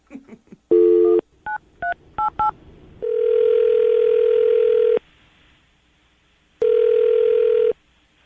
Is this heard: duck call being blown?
no